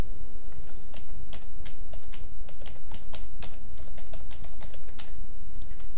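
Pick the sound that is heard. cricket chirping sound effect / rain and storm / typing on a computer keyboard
typing on a computer keyboard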